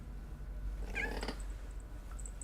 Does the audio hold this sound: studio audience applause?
no